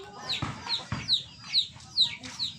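Backyard chickens cluck in short, repeated calls at a steady rhythm, fairly close and moderately loud.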